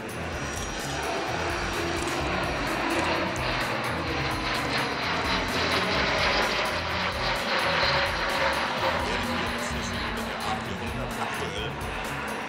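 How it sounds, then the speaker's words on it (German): Airbus A400M Atlas military transport flying a display at the Berlin air show, its turboprop engines droning and swelling as it passes, with a commentator's voice over the engine noise. "making its third public display here in Berlin, which is quite remarkable for an aeroplane this size."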